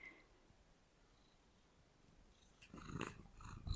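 Maisie the cat breathes quietly at rest, then gives a few short, close grunting huffs near the end, faint at first and growing louder.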